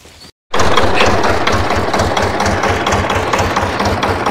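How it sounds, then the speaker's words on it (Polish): A tractor engine starts up after a brief gap and settles into a steady, loud idle with a regular low pulsing chug, close by and with no talk over it. "A teraz Krzysztof na traktor."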